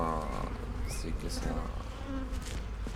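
A dense swarm of honeybees buzzes close by around a hive, a loud continuous drone with some higher whining passes mixed in.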